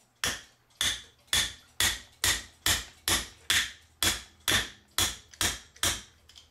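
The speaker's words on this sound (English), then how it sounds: "The way I pop these open now, get to the end of that, get a piece of wood or the back of a screwdriver." Eleven sharp, evenly spaced knocks, about two per second, ring out up close as a piece of wood or the back of a screwdriver taps a Howard Miller ship's bell clock to pop it open.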